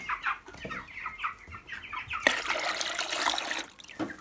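Chickens gathered at a water drinker cluck in quick short bursts, then a rushing splash of poured water briefly covers them before the clucking returns, close and fairly faint.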